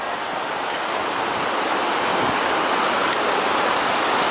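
Tegenungan waterfall in Ubud, Bali gives a steady, dense, loud rushing roar of falling water, continuous and unbroken throughout with no voices.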